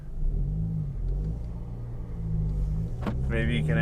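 A 2014 Chevy Cruze Eco with a Stage 2 tune accelerates from inside the cabin, a low engine rumble building steadily, with a voice speaking briefly near the end.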